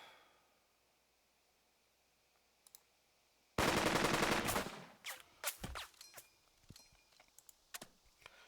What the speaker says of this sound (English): I'm going to shoot at this enemy unit as well